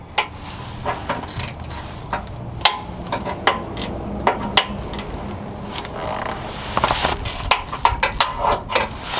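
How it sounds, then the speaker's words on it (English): Ratchet clicking and scraping against the AC compressor bolts of a 2004-2008 Ford F-150, in irregular bursts of short metallic ticks at close range with no talk. "Trying to see if I can loosen up the top one now."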